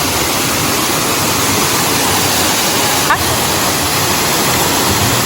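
A waterfall in the RHS Wisley garden gives off a steady, loud, dense rush of falling water that fills the whole scene without a break.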